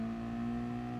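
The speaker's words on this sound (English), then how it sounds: "The revs are up." A race car engine in Gran Turismo Sport holds high revs for about a second, loud and steady with a strong harmonic drone and no break.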